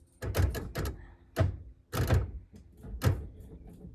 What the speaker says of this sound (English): door lock going on and off, on and off, on and off constantly